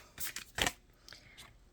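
Tarot cards are shuffled by hand in a few quick, soft papery riffles, close by and fairly quiet, with no voice over them.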